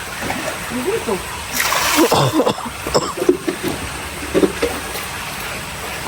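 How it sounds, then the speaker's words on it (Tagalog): Flowing water splashes and sloshes nearby on a rural Bulacan farm, irregular wet splatters rising and falling beneath people talking close by. "Pumupunta dyan yung tubig. Galing dito."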